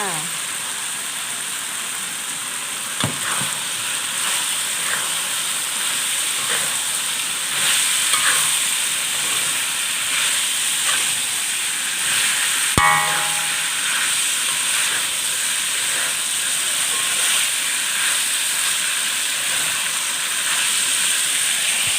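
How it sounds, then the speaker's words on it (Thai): Beans stir-frying with pork belly and curry paste in a hot pan, a continuous loud hiss and sizzle up close, with occasional scrapes and clanks from the spatula. A few soft voice sounds come in under the frying. "พัดให้ถั่วสุกกระใช้ได้แล้วค่ะ"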